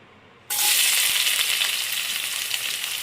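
Chopped onions drop into hot oil for chicken fried rice, setting off a sudden loud, bright sizzle that holds steady and close, with a single light clink of a utensil.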